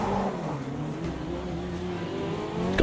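A race car in Automobilista 2 drones with a steady engine note that climbs slightly as it revs, close and continuous for a few seconds, with a brief sharper rise at the very end and no talking.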